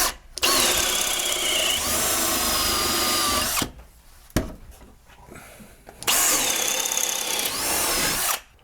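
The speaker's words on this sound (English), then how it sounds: "We generally just use this little drill here." A small power drill bores through a wooden stud during a kitchen remodel, whining loudly in two sustained bursts with a short quieter pause between them, close and without talk.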